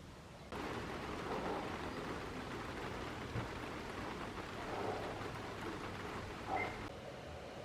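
Steady rain falling at night during winter in Santiago de Chile, a dense continuous patter with a few louder drops and low rumbles now and then, with no voices.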